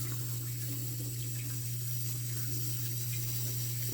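Water pours steadily from a faucet fed by a tankless water heater during maintenance flushing, a constant close hiss over a low humming pump drone, with no talk.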